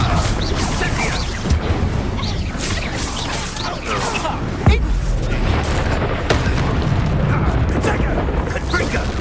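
Repeated fire blasting curse explosions during Hogwarts Legacy combat, heavy low booms and crashes rolling on continuously with sharper hits near the middle and voices over them.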